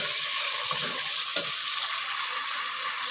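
Chole masala spices frying in a pan, a dense, steady sizzle filling the whole clip, close and even, with a couple of faint stirring scrapes and no talk.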